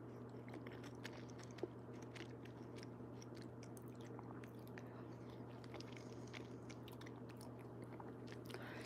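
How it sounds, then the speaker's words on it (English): Someone chewing crunchy canned corn, faint irregular crunches and bites spread over a steady low background hum, close by with no speech. "All these corn are crunchy."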